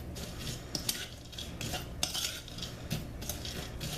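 Spoon stirring sugar, pecans and cinnamon together in a bowl, repeated scraping and clinking strokes in an uneven rhythm, close and moderately loud.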